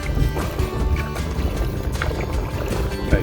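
Canoe paddle strokes on Pearly Lake on a breezy morning, rhythmic splashes and gurgles of water close by over light wind noise, no talking.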